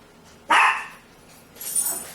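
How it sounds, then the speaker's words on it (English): An indoor dog gives two loud, sharp barks close to the microphone, the second following about a second after the first, with a quiet room in between. "Tell the dog to shut up"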